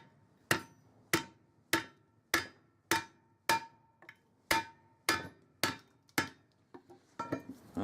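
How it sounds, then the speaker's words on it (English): About a dozen sharp, evenly spaced hammer blows land on a block of wood laid over a copper bracelet, each a crisp ringing knock that decays quickly, close and loud, with a few lighter taps at the end. "Hit it a few times smartly with a hammer."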